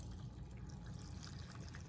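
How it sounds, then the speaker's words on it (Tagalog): Vinegar poured steadily into a container of homemade pickles, a soft continuous liquid splash and trickle, faint and without talk. "Yan, madaming vinegar lagay mo."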